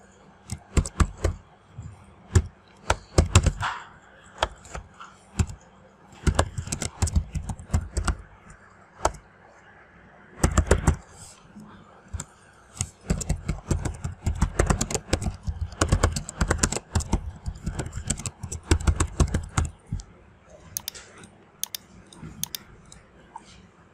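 Clattering bursts of keystrokes on a computer keyboard as an email signature is typed, loud and close, with uneven clusters of rapid clicks separated by brief gaps and no talking.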